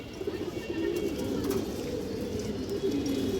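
Fancy domestic pigeons, a bonded pair of male and female, coo close by in steady, low, throaty rolling calls that carry on throughout.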